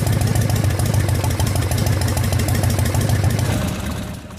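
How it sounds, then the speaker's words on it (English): Carbureted engine, fully warmed up, idling close by with a rapid, steady pulsing chug that holds even and then fades slightly near the end as the idle speed screw is adjusted. "With the engine fully warmed up and idle, the first step is to adjust the idle speed"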